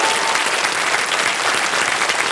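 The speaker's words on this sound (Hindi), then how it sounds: "एक बार तालियां बज जाएं इनके लिए।" Studio audience applauding steadily on a televised Hindi quiz show (Kaun Banega Crorepati), a dense, even wash of clapping filling the whole moment without pause.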